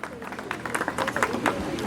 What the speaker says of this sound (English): Big round of applause for Dada John here.